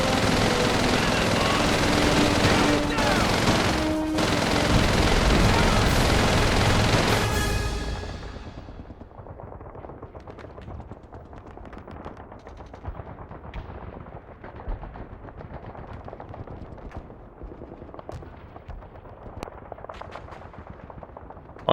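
Rapid machine gun fire from Call of Duty 3 on PS2, a dense, loud continuous burst of automatic gunshots lasting several seconds, then cutting off into quieter scattered distant shots and battlefield noise.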